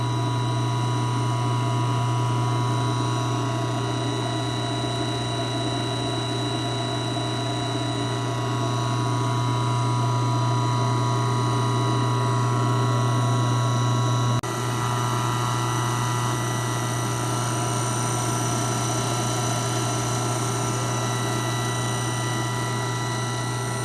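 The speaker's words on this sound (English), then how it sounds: "That's how you change the direction on a General Electric SCR repulsion induction motor." A vintage 1935 General Electric type SCR 1 HP repulsion-induction electric motor runs steadily, a loud constant low hum with an even mechanical whine, alone and unchanging throughout.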